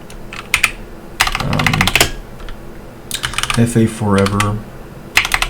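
Bursts of keyboard typing, fast clusters of key clicks separated by short pauses, close and moderately loud, with someone speaking in between the bursts while searching for Forged Alliance Forever files on Linux.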